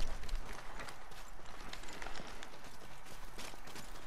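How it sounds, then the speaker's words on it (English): A teammate's heavy footsteps in the Apex Legends battle royale game thud in a quick, steady run over constant low background game noise, loud and close throughout. "Dude, your footsteps are loud"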